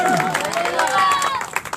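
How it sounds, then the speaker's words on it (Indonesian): A church congregation claps and cheers together, a dense burst of applause mixed with excited voices and singing that stays loud and steady before thinning out near the end. "Tepuk tangan yang meriah untuk Tuhan"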